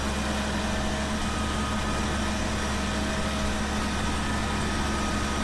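A Fendt tractor engine idles in Farming Simulator 17, a steady unbroken drone with a low hum that holds at an even level with no talking.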